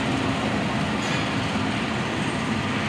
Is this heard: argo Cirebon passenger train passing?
yes